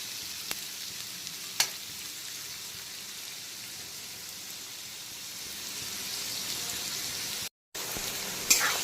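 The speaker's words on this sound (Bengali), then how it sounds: "এখন পেঁয়াজ কুচিটা যতক্ষণে ভাজা ভাজা হচ্ছে" Chopped onion frying in a pan over low to medium heat for a prawn bhuna, giving a steady soft sizzle throughout with a couple of brief clicks and a short gap near the end.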